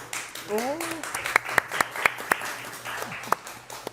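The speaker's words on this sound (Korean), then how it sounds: "여러분 큰 박수로 맞아주시기 바랍니다." At a People Power Party presidential primary event, a voice talks briefly before scattered, distinct claps ring out as an audience welcomes an MC, a thin and fairly close round of applause.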